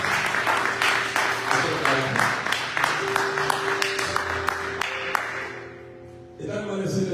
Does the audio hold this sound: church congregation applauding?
yes